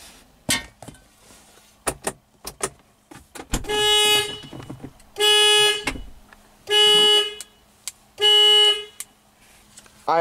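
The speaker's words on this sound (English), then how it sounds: "I activated my car alarm." A Hyundai Veloster's car alarm goes off: a few soft clicks and clunks, then four loud, blaring horn-like blasts of about a second each, repeating at a steady pace close by.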